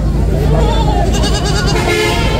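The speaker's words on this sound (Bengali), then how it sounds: "দর্শক এই পাশে আপনারা ছোট ছোট আরো বেশ কয়েকটি ছাগল দেখতে পাচ্ছেন।" Young goats bleat at a goat market at the High Court crossing, short cries rising over a dense, steady crowd din close by.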